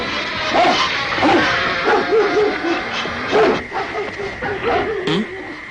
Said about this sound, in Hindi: ये कुत्ते भौंक क्यों रहे हैं इतना?